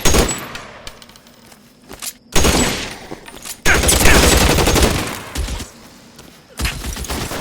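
Gunfire in the crime game L.A. Noire: several loud bursts of shots with short pauses between them, plus a few faint clicks and scrapes.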